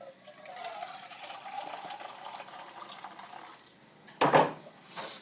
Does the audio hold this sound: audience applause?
no